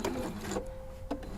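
A Husqvarna Viking sewing machine runs briefly, stitching sequins onto fabric with a soft, rapid mechanical chatter at close range, pausing and starting again within a second.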